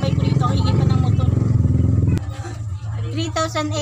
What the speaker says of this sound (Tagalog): ang ingay pa ng motor.